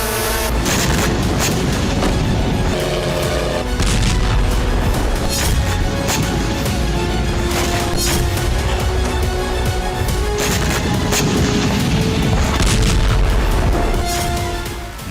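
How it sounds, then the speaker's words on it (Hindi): Repeated deep booms and blasts from bombing strikes on Russian cities, including Moscow, Bryansk and Kursk, rolling loudly and continuously with sharp crashes breaking through a dense rumble. "ज़ेलेंस्की की सेना ने रूस के 10 शहरों में एक साथ जबरदस्त बमबारी की"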